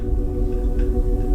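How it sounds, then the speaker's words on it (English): A $4000 Bluetooth speaker plays its startup sound, a low, steady, swelling drone with a faint shimmer above, moderately loud and uninterrupted. "this is the sound of the speaker starting up"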